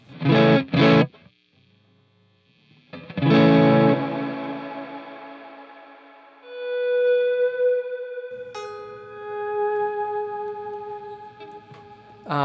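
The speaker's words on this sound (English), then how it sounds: "I'm only really using it for really kind of big ambient reverbs" Guitar notes through an Atomic Amplifire ring out and bloom into a huge, shimmering modulated reverb wash, with sustained swelling tones hanging in the air between softly played phrases.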